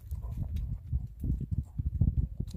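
Hooves of a strawberry roan four-beat racking horse clip-clopping in a quick, even rhythm of dull, close thuds, the steady gait continuing throughout.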